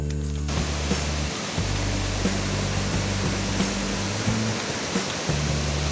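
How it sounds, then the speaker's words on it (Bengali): Flash-flood water pours strongly down a hill stream on the trail to Keokradong, a loud, constant, close roar of rushing water with no voices. "পাহাড়ি ঢল নেমে এদিক দিয়ে পানি পাস হচ্ছে খুব জোরে"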